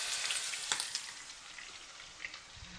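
Hamburger patty with onion frying in a pan: a soft, continuous sizzle with a few crackling pops and light stirring scrapes, close but fairly quiet, with no talking.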